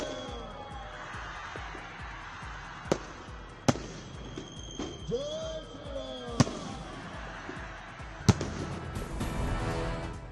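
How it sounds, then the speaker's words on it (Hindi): Fireworks and firecrackers burst in the street during a Diwali-like celebration in Chandigarh, with sharp cracks and bangs scattered amid whistling rockets and crowd noise, the barrage growing denser toward the end. "चंडीगढ़ में जमकर फोड़े गए पटाखे।"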